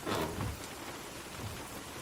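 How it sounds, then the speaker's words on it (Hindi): Steady rain falls in a dense, continuous hiss, close and fairly even throughout, with low rumbling underneath and no voices. "बारिश देख रही हो?"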